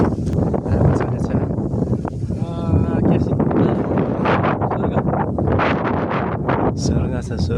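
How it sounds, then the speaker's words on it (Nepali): Strong wind on a hilltop buffets the microphone with loud, gusty rumbling roar throughout. A person talks over the wind almost the whole time. "आज एकदमै उकालोमा हावा चलिरहेको छ"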